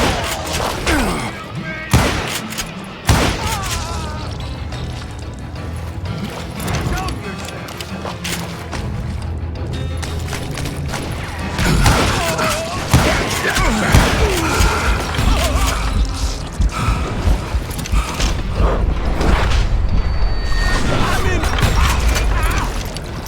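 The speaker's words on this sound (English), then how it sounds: "a fusillade of bullets come raining down from on high" Gunfire in Call of Juarez: Gunslinger, a dense barrage of sharp repeated shots and thuds raining down in irregular bursts over a busy mechanical backdrop.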